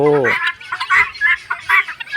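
Young chicks of a big-footed chicken breed, just let out of their nursery pen onto a farm yard in Thailand, making a quick run of loud, close chirps and clucking calls with a brief harmonic cry at the start.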